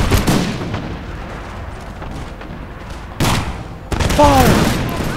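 Musket volleys from line infantry in Empire: Total War crack out as broad bursts of gunfire, a heavy opening volley then two more crashing rounds near the end, with battle noise rumbling between.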